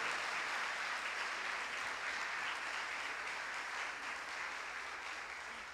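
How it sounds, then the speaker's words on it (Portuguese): A church congregation applauds during a Catholic Mass in a steady, dense wash of clapping that fades slightly toward the end. "Aplauda a nossa mãe, irmãos"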